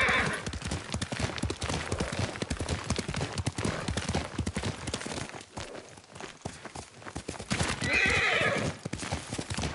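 A horse in a video game moves with steady clip-clop hooves and whinnies, the hoofbeats continuous and close with a sharp neigh near the end.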